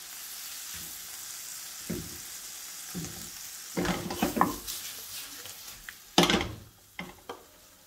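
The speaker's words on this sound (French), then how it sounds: "on fait caraméliser gentiment" Sugar caramelizing with a wooden spoon in a frying pan, a steady soft sizzle with occasional louder scrapes and stirring knocks of the spoon against the pan, close and without talk.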